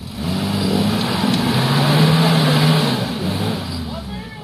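An off-road 4x4 accelerating over rough ground, its engine droning loud and close with a rising and falling pitch, while people talk over it.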